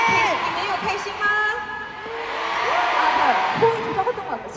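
A K-pop concert crowd cheers in an arena in Kaohsiung, with whoops and shouts rising and falling in a loud, dense swell. An amplified voice speaks through parts of it.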